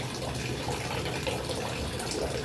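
Water drains steadily from a fishpond on a third-floor rooftop, a continuous rushing, splashing flow like a running tap that stays close and even throughout, with no talking.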